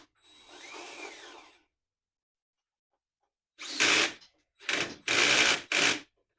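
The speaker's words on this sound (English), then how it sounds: "Now we can tighten up our axle." Power tool tightening the axle on a Tao Motor Classic 50 scooter during assembly, a soft whirring burst first, then after a pause four loud, close ratcheting bursts in quick succession.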